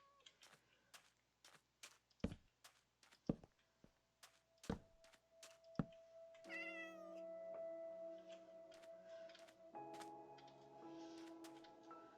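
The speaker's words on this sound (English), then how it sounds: "Hello, kitty cat." A cat in Minecraft meows in a few drawn-out, wavering calls that follow a run of sharp in-game clicks and taps, heard fairly quietly with no talking.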